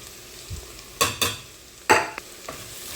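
Onion, ginger, garlic and green chilli saute in a pan with soft background sizzle broken by several sharp scraping stirs of a spoon, close and fairly quiet, in a home kitchen cooking a coconut chicken curry.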